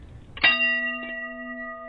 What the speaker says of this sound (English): he'll hit the bell